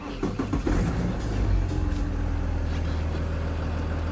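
A BMW 335d xDrive Touring F31 diesel engine cranks with a short burst of starter clatter, catches with a surge, then settles into a steady, close idle. No talking is heard.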